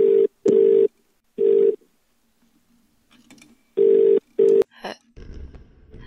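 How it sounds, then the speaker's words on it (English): An old-style telephone bell rings in The Cat Lady video game, sounding in four or five loud, even bursts separated by short pauses, followed by a click and faint handling noise. "Answer the phone."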